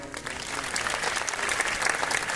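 Audience applause at a Hindi poetry recital after a jogira verse, a steady dense clapping from a crowd that holds at even loudness throughout.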